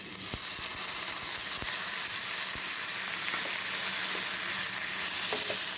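Tomatoes fry in a pan with red chilli powder for baingan bharta, giving a constant close sizzle with a few sharp clicks and knocks of a spoon against the pan, and no talk.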